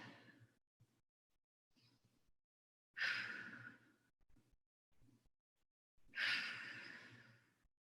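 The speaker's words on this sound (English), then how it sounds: "Take some deep breaths here." Slow, deep breaths during a kneeling hip stretch in an adult strength and conditioning class: two long, audible exhales stand out among fainter inhales and short breaths, close and quiet, with no talking.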